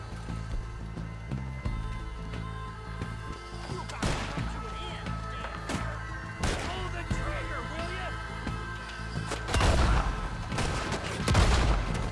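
Gunfire rings out in the video game Red Dead Redemption 2, several sharp, loud shots spaced apart amid crashes and impacts, with someone talking over the action.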